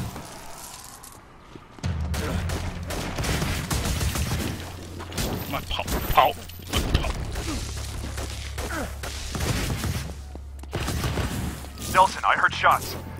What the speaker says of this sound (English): Nelson, I heard shots.